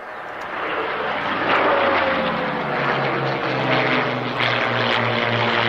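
A propeller aircraft, its prop shaft running between the pilot's legs, flies past at the Duxford Flying Legends airshow in 1998. A loud, steady engine drone swells slightly and holds, with no voices over it.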